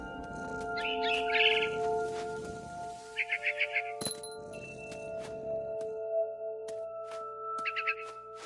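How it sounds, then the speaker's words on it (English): Barn swallow chirps inside the video game What Remains of Edith Finch, short trilling bursts that come and go over steady soft game ambience and music tones, with a sharp chime partway through. "Then I heard chirping outside my window. It was a barn swallow going back to her nest."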